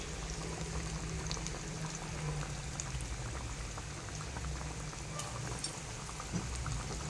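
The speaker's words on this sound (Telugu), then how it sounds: "ఇవి వేగాలి ఫ్రెండ్స్, జర మంచిగా వేగాలి" Food fries in a pan with a steady, close hiss and dense bubbling crackle, unbroken throughout.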